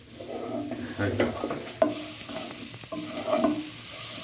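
Grated carrot halwa is stirred steadily in a frying pan, with repeated scraping strokes and a soft sizzle, plus an occasional sharp tap of the spoon against the pan.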